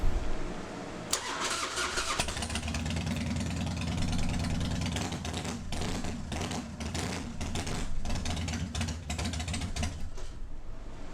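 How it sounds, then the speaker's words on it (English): Fuel pump whine and engine starting on a 2003 Harley-Davidson Fatboy Softail: a steady mechanical whine gives way to the engine cranking and catching, then a loud, continuous rumbling run with a pulsing rhythm. "Got a nice whine from the pump."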